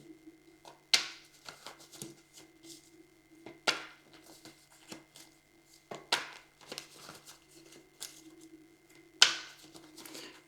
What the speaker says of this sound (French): Alors je brasse un peu.